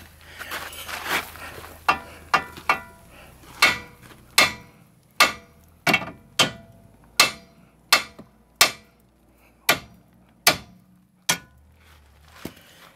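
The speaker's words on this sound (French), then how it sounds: "on va faire avec l'autre outil magique, qui est un marteau" A hammer strikes a car's steering ball joint to knock it free, about fifteen sharp metallic blows at a steady, deliberate pace, loud and close, each ringing briefly before the next.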